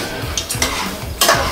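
A spoon scrapes and swirls through spaghetti boiling in a pot, a few close stirring strokes with bubbling water and light metallic scrapes, no talking.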